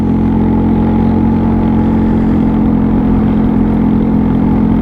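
Royal Alloy GT125 scooter engine running steadily on a test ride, a continuous close mid-pitched drone with a constant loud level and no talk over it.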